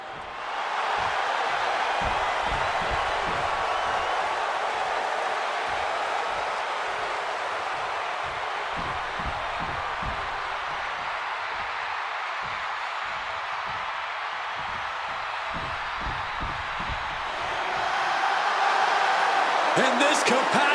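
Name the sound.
crowd cheering in WWE 2K26 video game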